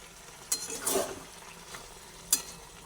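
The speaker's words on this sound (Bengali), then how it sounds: "তাও আমি অল্প করে এর মধ্যে জলটা দিয়ে দিচ্ছি" Water is poured in small amounts into a pan of potato, eggplant and capsicum vegetarian curry, giving a few short hissing sizzle bursts over quiet background stirring.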